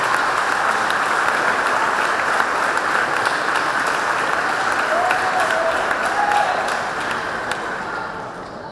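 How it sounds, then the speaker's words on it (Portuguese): A church congregation applauds loudly and steadily for several seconds, a dense wash of claps that fades slightly toward the end. "Aplauda ao Senhor bem forte com alegria."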